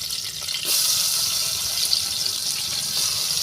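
Soya chunks are washed under running water, with a steady splashing tap stream that starts with a sudden surge and continues evenly and close by.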